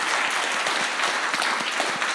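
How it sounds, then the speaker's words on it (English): Audience at a summer summit panel on culture and diplomacy gives a short burst of steady, dense clapping, moderately loud and close, with no voices over it. "Big round of applause."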